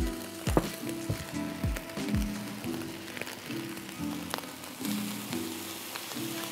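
Garlic and oyster sauce sizzle and fry hard in a hot wok, a steady crackling hiss with sharp spits and pops, close and loud, while deep tonal bursts of background music play underneath.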